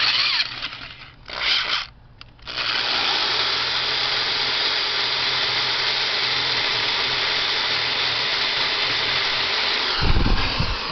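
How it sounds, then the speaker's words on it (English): A handheld drill with a slightly larger bit reams out the bolt holes for a boat drain plug, starting in short bursts, then running as a steady high whine for several seconds before slowing at the end. "So I went up to a little bit bigger drill bit. Ream this out"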